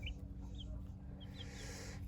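Chicks and chickens, including Brahma and black hens, peep and cluck faintly in a coop, a few brief high chirps over a steady low hum.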